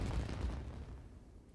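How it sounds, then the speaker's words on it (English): A Genshin Impact explosion during the Lantern Rite fireworks show: a single muffled boom that starts loud and rumbles away over about a second and a half, with no voices. "Did you hear that explosion?"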